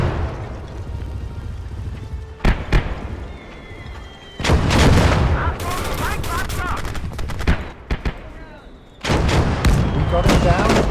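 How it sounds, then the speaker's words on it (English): Mortar rounds and artillery boom in a war video game, sharp loud blasts in clusters with crackling gunfire and rumbling between them, and voices speaking under the battle. "Come on, mortars."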